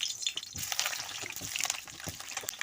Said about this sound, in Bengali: এইগুলোকে তেলে কষে নেব কড়াইতে তেল দিয়ে দিচ্ছি তেল গরম হয়ে গিয়েছে আলুটা কষে নেব